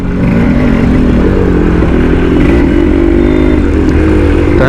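A Suzuki Shogun motorcycle engine runs loud and close in traffic, a continuous buzzing two-stroke drone with slight shifts in pitch as the throttle varies, and no voices over it.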